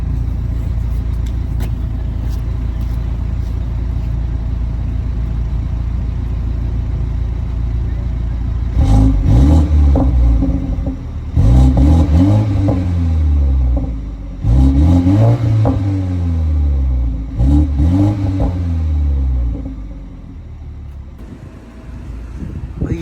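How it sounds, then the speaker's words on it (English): A 2020 BMW 330i in sport mode revs its exhaust in four loud, rising bursts over a steady idle rumble, each rev climbing sharply then falling back before the engine settles. "I'm gonna let y'all hear what the exhaust sounds like in sport mode"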